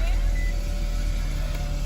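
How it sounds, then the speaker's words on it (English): A car engine idles steadily just after starting, a low continuous rumble filling the short moment with no break. "Car started."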